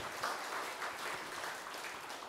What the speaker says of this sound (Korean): 우리 이 큰 스님 두 분께 박수 한번 보냅시다